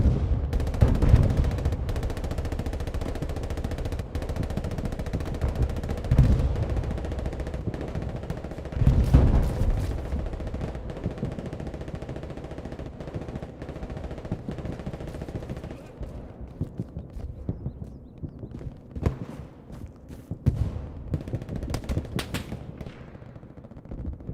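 Artillery and gunfire in the WWII shooter game Hell Let Loose: repeated sharp shots and heavier booming impacts at irregular intervals, some bursts loud and others distant, under occasional commentary.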